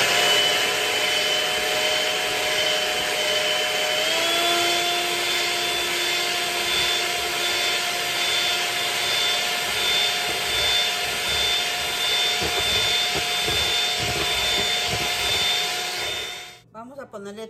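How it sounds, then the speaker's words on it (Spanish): An electric mixer whips egg whites in a steady loud whine with a rising tone partway through, continuing nearly unbroken before cutting off abruptly at the end. "Vamos a batir las claras de huevo."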